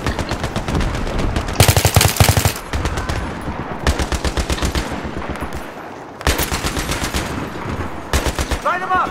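Bursts of automatic machine gun fire in the video game Battlefield 3, with rapid rhythmic volleys and two long loud bursts over continuous battle noise.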